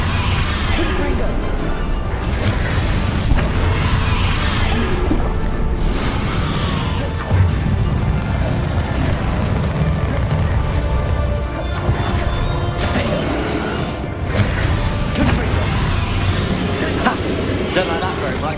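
Confringo fire-spell blasts in the video game Hogwarts Legacy, booming crashes and whooshes layered within dense, continuous combat noise and music, loud and close throughout.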